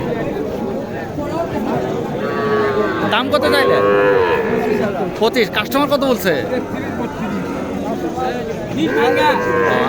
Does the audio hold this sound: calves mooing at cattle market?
yes